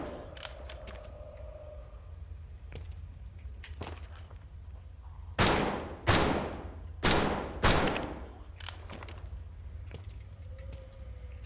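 Gunfire in the VR zombie game Death Horizon: Reloaded, four loud, sharp shots fired in quick succession mid-way, surrounded by fainter clicks and handling noises.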